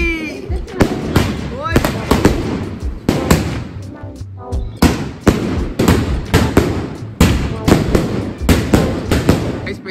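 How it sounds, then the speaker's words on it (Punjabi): Diwali firecrackers go off in a rapid string of loud, sharp bangs close by, with brief pauses between clusters and voices heard in the gaps. "ਪਟਾਕਾ ਚੱਲਣ ਲੱਗਾ ਦੇਖੋ"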